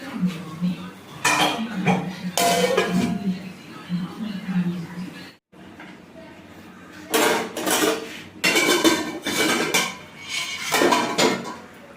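Pots and pans clatter and metal utensils clink as boiled vegetables are poured out of a cooking pot, sharp close clanks in bursts separated by quieter gaps, with a person talking in between.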